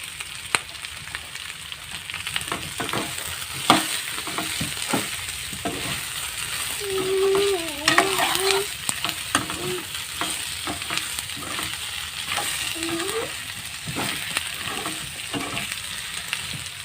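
Chopped tomato fries in a hot pan while being stirred, a continuous close sizzle broken by repeated scraping strokes of a spoon against the pan.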